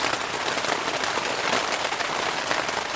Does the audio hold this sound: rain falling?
yes